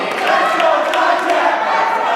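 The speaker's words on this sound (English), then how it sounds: "A little bit of cheers for Dijak here." A wrestling crowd at a small indoor show cheers and shouts for a wrestler, a brief, loud burst of massed voices and yells close to the microphone, sustained evenly for a couple of seconds.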